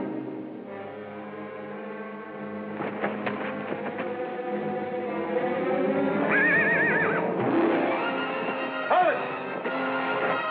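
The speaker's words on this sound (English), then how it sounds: "There are two horses at the rack outside." Horses whinnying outdoors, with a long shrill neigh rising and wavering near the middle and another short whinny later, over a low rumbling background and some clattering.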